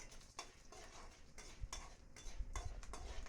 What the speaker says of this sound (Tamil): அதுக்கப்புறமா உளுந்து, சீரகம், கொத்தமல்லி எல்லாத்தையும் ஒன்றா சேர்த்து வறுத்தெடுத்துக்கலாங்க